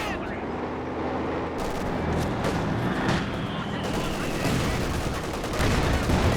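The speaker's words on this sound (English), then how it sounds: "Some good hits in here with the mortar." Mortar shells landing on infantry in Company of Heroes 2, dull booms and crackling impacts mixed with steady rifle and machine-gun fire, a busy battle din with a voice talking over it.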